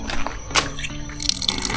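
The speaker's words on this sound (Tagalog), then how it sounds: "Malakas yung tubig, saka sobrang lamig." Strong, cold water gushes from a dishwashing tap at an outdoor campsite wash area in La Trinidad, Benguet, a steady close splashing broadband rush with a few drip-like accents, no voices.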